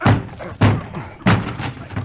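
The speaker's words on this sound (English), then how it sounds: "Come on, help me break this door down." Heavy door struck repeatedly as it is broken down in an old radio drama, three loud booming slams about half a second apart, close and forceful.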